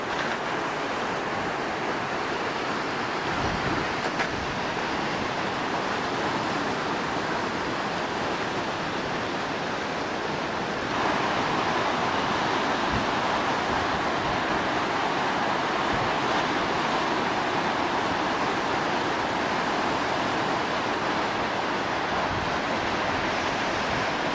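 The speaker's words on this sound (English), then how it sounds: "this is the Southern Ocean" Southern Ocean surf rolling in at Eagle's Nest, a steady broadband wash of breaking waves with wind noise on the microphone, continuous and fairly loud with a slight rise in level partway through.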